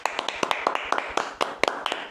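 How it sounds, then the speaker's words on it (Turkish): A couple of people clap for themselves before trying to make a milk burger, giving a quick run of about a dozen sharp, close claps over two seconds, uneven in rhythm and with no talk. "Kendimizi bir alkışlayalım önce. Moral alkışı."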